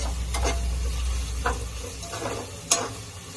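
Onion frying in a pan for a quick soyabean pulao, with soft crackling sizzle and several sharp stir or spatula ticks scattered through, fairly steady and close.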